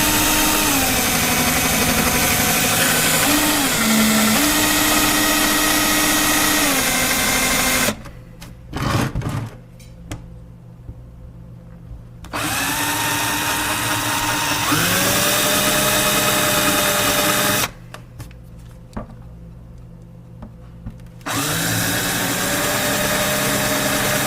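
Power drill with a dull bit whines loudly while boring into a fuse and relay panel, running in long steady bursts that stop twice with quieter pauses and brief rattles between.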